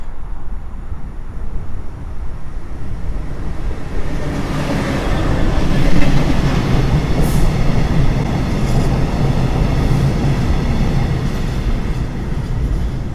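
A train rolls past close by near Warszawa Gdańska station, a broad rumbling wash of wheels and carriages that swells in the middle and stays steady throughout.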